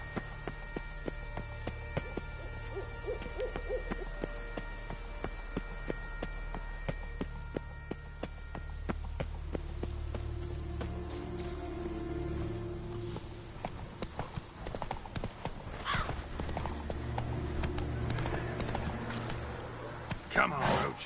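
Roach the horse's hooves clip-clop at a run in The Witcher 3, a quick rhythmic beat of close hoof falls mixed with game music and effects, fading into louder combat-like sounds later.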